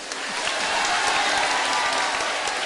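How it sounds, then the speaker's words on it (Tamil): Sustained audience applause at a Tamil pattimandram debate festival, a dense, steady wash of clapping that swells early and holds loud throughout without talk. "நல்லா கைதட்டுங்க."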